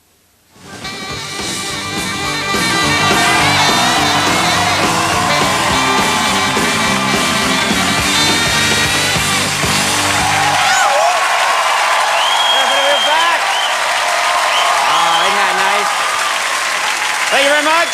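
A studio audience at a Conan O'Brien taping in Toronto cheers and applauds loudly and continuously, with whoops and shouts rising over sustained clapping throughout.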